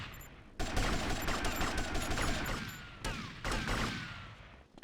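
Enemy gunfire in GTA3 during a chase, dense rapid volleys of shots close by with rounds whizzing past, broken by a short pause before another burst.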